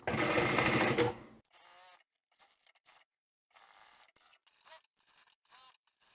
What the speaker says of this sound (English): I'm actually going to do the top stitch with my seam facing the long piece of fabric